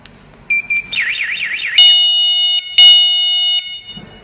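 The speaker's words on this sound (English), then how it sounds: "We just test if we enroll the wireless siren to the alarm control panel if okay." A wireless siren strobe enrolled to an alarm control panel blares loudly and close, starting with short electronic beeps, then a warbling tone, then sustained shrill alarm tones with a brief gap.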